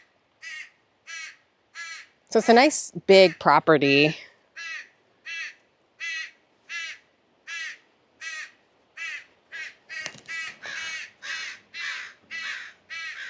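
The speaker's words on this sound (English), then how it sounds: "I bet that those crows have a baby, and that's why they're so mad I'm back here" Crows caw repeatedly and harshly near a backyard fence line at a coastal property in Seaside, Oregon, giving a steady run of loud calls throughout, with a person briefly talking over them early on.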